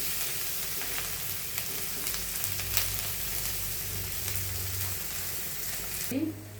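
Chopped capsicum sautéing in a hot pan, a steady close sizzle with faint scraping and stirring, and a brief louder clatter near the end.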